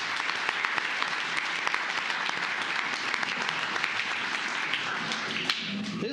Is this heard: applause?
yes